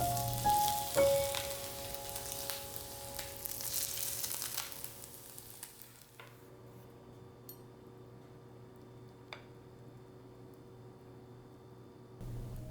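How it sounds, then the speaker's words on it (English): Loud crackling sizzle of hot oil poured over Chinese steamed fish, strongest at first, then fading to quiet popping and near silence after about six seconds. "Just listen to that sizzle."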